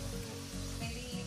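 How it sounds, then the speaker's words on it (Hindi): Mixed vegetables, including potatoes, fry in a pan for biryani, producing a brief, even sizzle that lasts only a moment, with a low hum beneath it. "मेरी वेजेस भी फ्राई हो चुकी है ऑलमोस्ट।"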